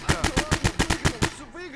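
Rapid burst of about nine gunshots from a London simulator video game, evenly spaced and punchy, fired close by before a brief tail of game ambience with a faint voice.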